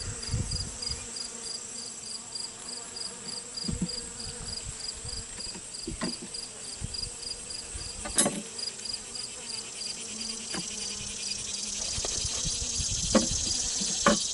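Honey bees buzz steadily around a hive during an inspection of a failing colony, a dense continuous drone with a few sharper knocks and rustles close by.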